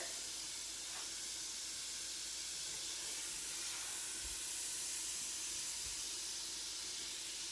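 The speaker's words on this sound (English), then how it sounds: "I'm going to go ahead and add in my tablespoon of butter" Butter going into a large preheated pan for homemade tomato soup, giving a steady, broad hiss and sizzle that stays constant and close throughout, with a couple of faint low knocks and no speech.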